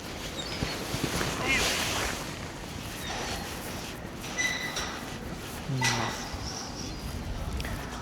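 Harbour ambience with water lapping against the quay, a continuous wash of soft splashing, occasional short gull cries and faint background noise.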